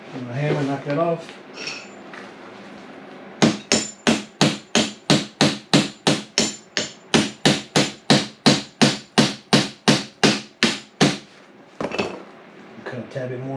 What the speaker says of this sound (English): my hammer, knock that off.